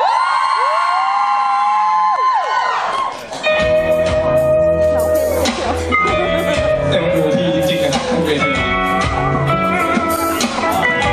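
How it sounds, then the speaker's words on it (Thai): A crowd of young fans screams and cheers loudly and continuously for a Thai boy band at its launch event; after a brief lull near the start, the shrieking rises into a dense roar, with music also playing underneath. "ขอเสียงกรี๊ดให้พวกผมหน่อยได้"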